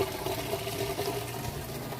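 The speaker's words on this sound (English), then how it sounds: "You can hear it draining that water." A Maytag washing machine drains water during its rinse cycle, giving a steady, moderately loud gurgling rush of water with a low pump hum underneath, running continuously with no talking.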